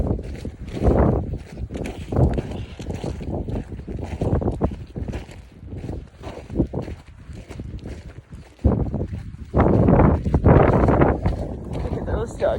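Wind blowing outdoors, buffeting the microphone in loud, uneven low gusts that rise and fall, with a person talking over it throughout.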